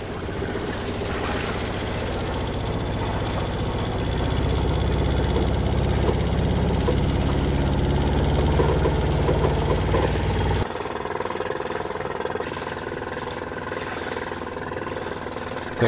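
A Volvo Penta marine boat engine revved to around 2,500 RPM, a loud steady drone that holds strong for about ten seconds, then drops away abruptly, leaving a quieter wash of water and wind.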